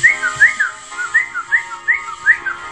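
A person whistles a short, lilting run of rising and falling notes in quick, bouncy phrases, close and clear against a quiet background, with no talking.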